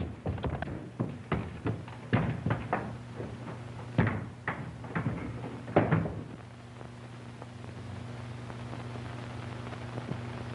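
Someone trying an upstairs door in an old tavern to see if it is locked: a quick series of sharp rattling knocks and clunks, then fading into a quiet hum.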